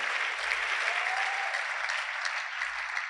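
A congregation at a worship service applauds, a dense, even wash of clapping hands that holds steady for the whole few seconds without pause.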